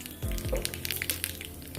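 Cumin seeds fried in oil for pepper rasam give a close, steady crackling sizzle with small pops and a few soft stirring scrapes, no voices.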